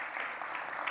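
An audience applauds a speaker at a legal technology talk on law firms accepting Bitcoin and blockchain, a brief, fairly soft burst of steady clapping that fills the whole moment.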